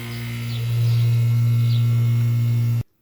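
An old air conditioning unit with a bad fan and decades-old capacitors hums steadily and loudly after the power is switched on, a low electrical drone that continues alone before cutting off abruptly near the end.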